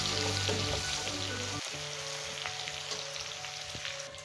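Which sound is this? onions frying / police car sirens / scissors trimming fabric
onions frying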